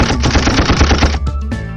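Video game gunfire in a European tournament match, a rapid automatic burst of shots rattling for about a second, then a few scattered single shots, loud and close with no talk.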